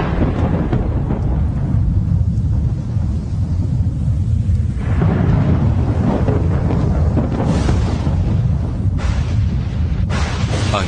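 Deep thunder rolls from a lightning strike, a loud, continuous low rumble with wind-like roar throughout and brief brighter cracks near the end, heard with no voices.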